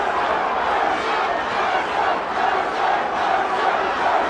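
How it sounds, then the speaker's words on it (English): A large boxing crowd cheers and shouts steadily in support of Ray Mercer during his fight with Tommy Morrison, a loud continuous roar with rhythmic surges, as if chanting. "the Mercer crowd comes to his support"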